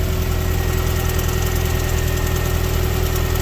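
A freshly rebuilt Mazda MX-5 engine idles close by with an even, steady hum and fine mechanical vibration, running smoothly and alone without talk.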